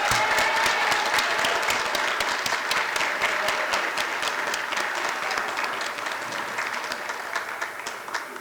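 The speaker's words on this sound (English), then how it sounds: "Can we give them another round of applause?" Sustained applause from an audience at a creative writing reading, a dense, even wash of many hands clapping throughout without pause, slowly easing slightly toward the end.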